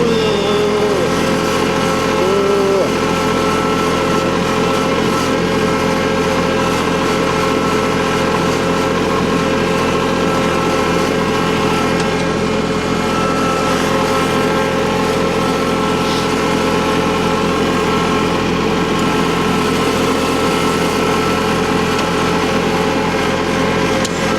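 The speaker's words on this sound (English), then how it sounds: "Tractor." Farm tractor engine running steadily while driving over rutted field ground, a loud, constant droning hum that stays close and unbroken throughout.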